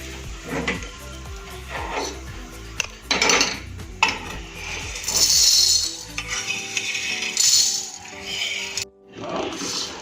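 Roasted dal for a pahadi dal recipe is moved from the pan into a separate vessel, with close metallic clanks, scrapes and the rattle of a utensil against pots in irregular bursts.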